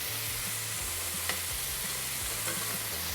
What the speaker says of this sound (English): here we have the jam. It's boiling